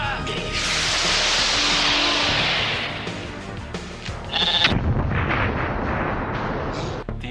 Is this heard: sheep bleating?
yes